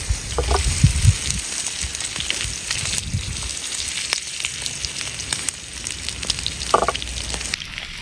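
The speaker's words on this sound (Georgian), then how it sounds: "აბა გავახუროთ ჩემი მაგარი ტაფა" Food sizzles steadily in a hot pan over an outdoor cooking setup during a hike in a windy forest, a continuous close frying hiss with small crackles and no talk.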